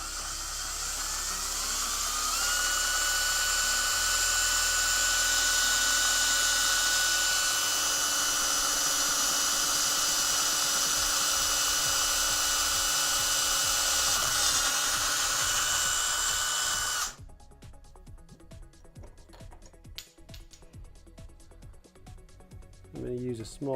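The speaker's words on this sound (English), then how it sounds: "when drilling metal, you always want to go slow." A steady, high-pitched whine of a power drill drilling slowly through metal runs loudly and continuously, then stops abruptly, leaving quiet scraping and faint handling noises.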